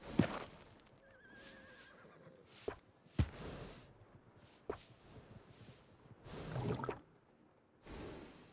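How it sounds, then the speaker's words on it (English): A horse in Red Dead Redemption 2 whinnies and snorts near a stable, with sharp breathy bursts, a short neigh, and soft huffs spaced across a few seconds in a quiet setting. "And a fine new horse."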